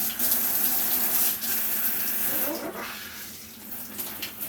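A handheld shower head sprays a strong, steady blast of water, a continuous close hiss with brief changes in the flow and no talking.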